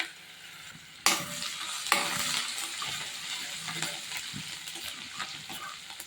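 Green chili, garlic and ginger dropped into hot oil with cumin for dal khichdi on medium flame, a sudden loud sizzle that keeps crackling close by with occasional stirring scrapes.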